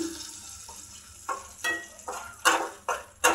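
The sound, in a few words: small hilsa fish cooking with sponge gourd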